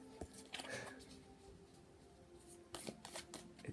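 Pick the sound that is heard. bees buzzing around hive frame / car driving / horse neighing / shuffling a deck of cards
shuffling a deck of cards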